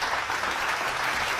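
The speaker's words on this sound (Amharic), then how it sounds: "በ5ኛው ዙር አጨብጭቡ ለራሳችሁ።" Steady applause from a quiz-show audience, a dense continuous wash of clapping hands held at an even level for the whole moment with no break.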